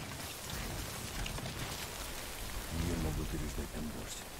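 Steady rain in the video game Death Stranding, a faint, even hiss of falling drops with a low rumble, while a voice talks quietly over it partway through.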